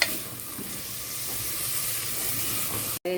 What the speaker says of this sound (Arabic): خلاص بنشوح اهو زي ما انتم شايفين تشويحه